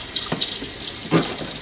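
Kitchen sink tap running steadily while dishes are washed, with the splashing stream broken by a few soft clinks and splashes of crockery, close and fairly quiet.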